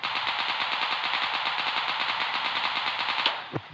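Rapid automatic gunfire from a weapon in a shooting video game rattles continuously at a fast even rhythm, loud and close, stopping abruptly near the end with a final clatter.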